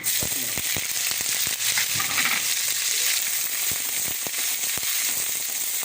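Chopped onions and a leaf dropped into hot oil in a kadai, frying with a steady, close, loud broadband sizzle and scattered sharp crackles and pops throughout.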